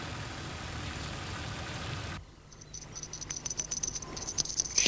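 A cartoon fly from a Fireman Sam episode buzzes in high, thin, wavering bursts, coming after a loud rushing noise cuts off abruptly.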